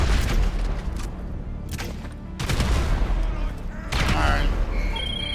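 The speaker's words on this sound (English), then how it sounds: "I'm gonna go for the... grenade launcher again." Explosive booms and gunfire ring out in the video game GTA 5 as a grenade launcher is fired, heavy blasts repeating every second or two with rumbling tails at close range.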